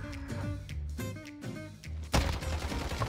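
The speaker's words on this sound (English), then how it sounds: "That was cinematic with the bomb going off." A bomb goes off in the Modern Warfare video game, a sudden loud broadband blast landing after a stretch of gunfire and music, then a sustained roaring rumble.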